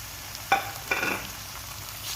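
Chicken drops into a pan of sautéed onions and starts frying: two quick splashy bursts settle into a soft, continuous sizzle nearby, with no talking.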